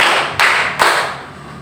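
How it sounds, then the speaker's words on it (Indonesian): At a school information meeting in Kapongan, an indoor crowd performs a counted clapping routine, sharp claps struck together in unison with short even gaps between them, loud and close. "Tepuk 1. Tepuk 2, tepuk 3."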